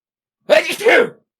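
A single loud sneeze bursts out close to the microphone, lasting under a second and surrounded by silence.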